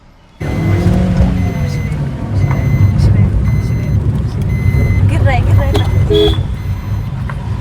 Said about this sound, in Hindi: फिर भी लोग ना एक एक करके गाड़ी निकाल रहे हैं